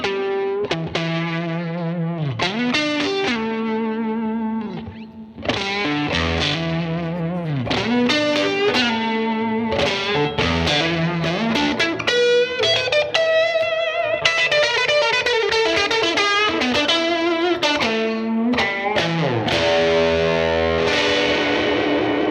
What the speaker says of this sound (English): So this is a 60s Ventera Strat.